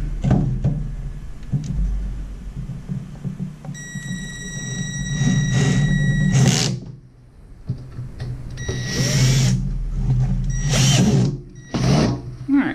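A power drill drives a screw tight while mounting a solid state relay, giving several loud, close bursts of whirring and ratcheting clutch clicks with short gaps between them, and no speech.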